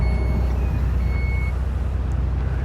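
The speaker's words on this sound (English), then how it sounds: "Power lift gate." A 2022 Chrysler Pacifica Touring L wheelchair conversion van's power lift gate operates with steady repeated warning beeps over a low continuous motor hum, close and fairly loud.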